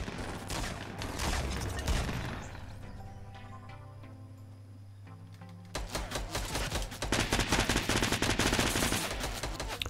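A SCAR assault rifle fires in Fortnite Battle Royale in rapid bursts, loud at the start, then briefly quieter before a dense volley of shots fills the last few seconds.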